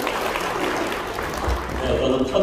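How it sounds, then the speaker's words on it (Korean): Guests applaud at an 80th-birthday banquet in the Walkerhill Hotel: a dense, even wash of clapping fills the room without a break, with some voices underneath. "박수 한번 드릴게요."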